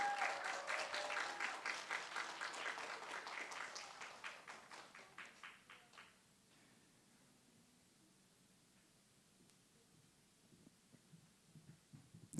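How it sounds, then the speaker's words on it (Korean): A crowd claps steadily for several seconds, then the applause thins out and fades away, leaving quiet room tone with faint sounds. "우리 박수로 환영해 주시면 감사하겠습니다."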